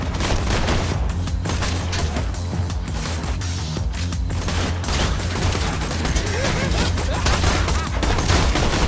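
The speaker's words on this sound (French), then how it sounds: "Allez, la mitrailleuse est de sortie." A machine gun fires in continuous rapid bursts during a Borderlands 2 video game fight, dense and loud, with explosions and other game effects mixed in.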